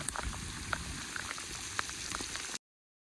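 Heavy monsoon rain pours steadily in the countryside during rice transplanting, a dense continuous hiss with scattered sharper drop impacts, then stopping abruptly near the end.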